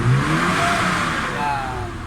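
Mitsubishi Adventure engine revving steadily after an RPM gauge repair, a loud, close, continuous mid-pitched drone with a slight rise and fall in pitch, heard alone without talk.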